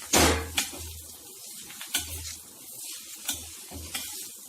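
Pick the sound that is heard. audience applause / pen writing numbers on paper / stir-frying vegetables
stir-frying vegetables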